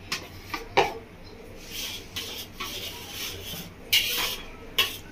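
Cashew paste is stirred into boiling milk in a pan, with spoon scrapes and clinks against the metal at an uneven pace over a soft bubbling hiss, near and without talk.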